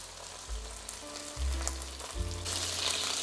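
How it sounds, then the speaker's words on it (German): Loud, steady sizzling and crackling of a rump steak searing in a hot frying pan, with a few low thuds as it is moved around. "Wir braten das jetzt von allen Seiten schön an."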